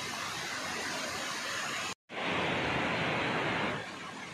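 A forest waterfall near Mauni Baba cave in Rishikesh, running muddy with monsoon water, pours in a steady, loud, hissing roar, cut off by a brief gap of silence before the rushing resumes even stronger.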